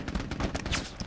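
A rapid burst of gunfire in the Mercenaries video game rattles out densely and loudly for about a second.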